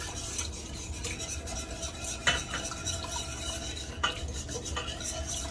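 Meatballs being turned in a pan over medium-high heat, with soft scraping and clinking of a utensil against the pan and occasional sharper knocks under a steady background hiss.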